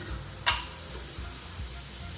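A soft, steady sizzle of seeds in hot oil, close by, broken by one sharp click near the start.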